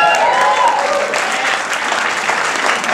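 An audience at a scientific society's annual meeting, gathered for a quiz-style team game, applauds steadily for three seconds, a dense, loud wash of clapping with no pauses.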